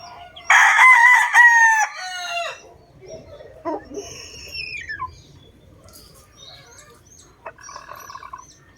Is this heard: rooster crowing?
yes